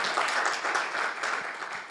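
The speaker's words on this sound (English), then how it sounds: "Can we have a big round of applause, ladies and gentlemen?" A crowd at a formal ceremony with a mayor applauds, a continuous wash of many hands clapping at a steady, fairly loud level for the whole stretch.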